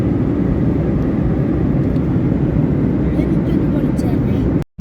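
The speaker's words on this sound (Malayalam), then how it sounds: "അപ്പോൾ ഫ്ലൈറ്റ് ലാൻഡ് ചെയ്യാൻ പോവാണ്" Steady, loud engine drone fills an airplane cabin as the flight prepares to land, a dense low rumble holding even throughout before cutting off abruptly at the very end.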